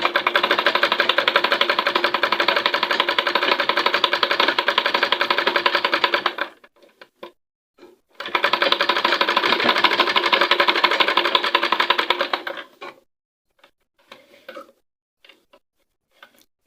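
A sewing machine driven by its foot pedal stitches in two steady, rapid runs of about six and four seconds, separated by a short pause and followed by a few faint clicks.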